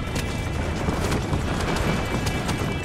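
Horse hooves gallop in Red Dead Redemption, a steady rapid clip-clop pounding close up over a continuous bed of in-game noise.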